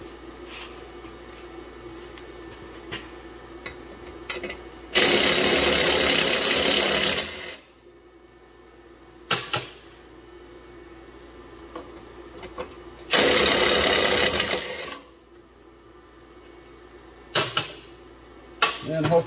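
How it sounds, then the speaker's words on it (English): Electric impact gun removing a bolt under a 2015 Chevrolet Trax 1.4 LUV, two loud sustained hammering bursts of about two and a half and two seconds, with shorter clicks and quieter workshop sounds between them. "Now I'll take it off with the electric impact gun."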